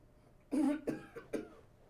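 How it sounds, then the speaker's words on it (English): A single person coughs a few times in quick succession after being given a fast-acting bronchodilator, a strong first cough followed by softer ones, in an otherwise quiet room. "Sometimes they'll start to cough as this medication works and loosens up things in their airway."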